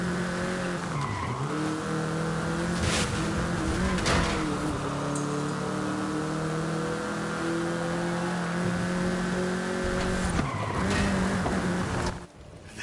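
A Volkswagen Beetle (Vocho) on a Mexican street, engine droning steadily while its tires squeal and skid in long sustained screeches, loud and close, cutting off abruptly near the end.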